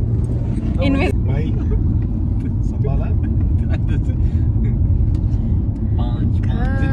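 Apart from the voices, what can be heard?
car driving off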